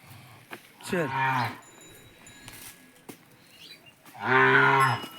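A farm cow being led to a water trough moos twice, loud and close, each call long and drawn out, with a quiet pause between them and soft outdoor background.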